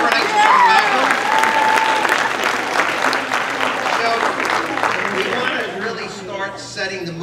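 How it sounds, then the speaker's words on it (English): A crowd at a school talent show applauds loudly, with steady clapping and some cheering and chatter, tapering off slightly toward the end as a voice comes through. "Let's give her a nice round of applause."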